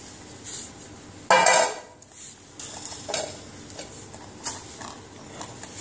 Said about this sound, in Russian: Открываем банку.